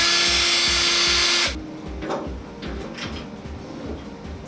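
A cordless power drill whirs loudly for about a second and a half while boring through material during a network and server upgrade, then stops, leaving quieter handling noises and faint rustling.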